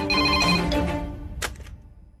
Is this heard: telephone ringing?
yes